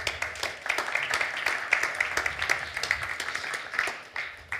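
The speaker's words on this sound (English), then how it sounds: "Please give him a round of applause." Audience applause fills a Berlin evening presentation of impact evaluation results, a steady patter of many hands clapping at moderate volume for about four and a half seconds with no talk over it.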